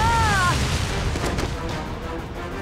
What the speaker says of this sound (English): you might want to dodge those Power Ranger explosions